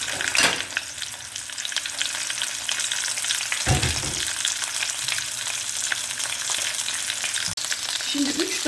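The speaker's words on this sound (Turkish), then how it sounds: "Isınan yağımın içerisine kurulamış olduğum inciklerimi ilave ediyorum. İnciklerimi bu şekilde mühürleyeceğim arkadaşlar." Lamb shanks searing in hot olive oil, a loud, dense, continuous sizzle heard close up, broken by a few brief thumps as the meat shifts.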